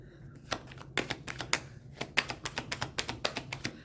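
Quick bursts of crisp riffling and tapping, like a deck of cards being shuffled and bridged, close up with no voices.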